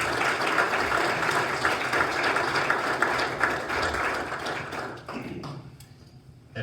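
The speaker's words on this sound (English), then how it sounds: "One more round of applause for Officer Adam Gow." Applause from the audience at a city council meeting honoring a police officer, a dense sustained clatter of clapping that thins out and fades near the end.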